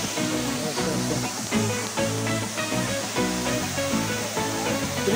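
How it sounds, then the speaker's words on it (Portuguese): Water plunging 32 metres down the tallest waterfall in Vale das Cachoeiras, a steady, loud, broadband roar, close and continuous with no talk over it. "A cachoeira mais alta que tem aqui no Vale das Cachoeiras"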